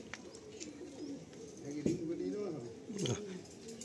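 A high-flying pigeon coos in soft, low, throaty phrases, close by, with a couple of rising coos standing out while people talk nearby.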